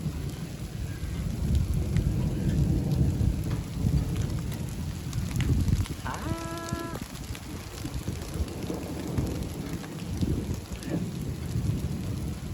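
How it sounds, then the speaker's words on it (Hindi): Heavy rain pours steadily over a village with low, rumbling thunder beneath it, a dense continuous wash that holds at one level throughout, with a brief tonal bleat-like sound partway through. "हुण कोई बारिश आई"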